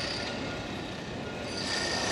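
Another train approaching along the track, heard as a steady, smooth rolling rumble with a faint high wheel squeal that grows slightly louder toward the end.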